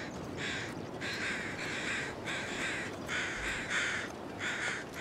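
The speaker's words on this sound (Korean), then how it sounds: "시체 한 마리만 까마귀가 꼬였네?" Crows gathered over a wolf carcass in a video game caw in steady, repeated bursts, loud and close, with nobody talking.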